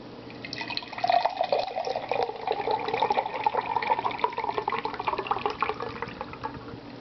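Energy drink pouring steadily into a mug, a continuous liquid splash and trickle lasting several seconds at close range, with no talking.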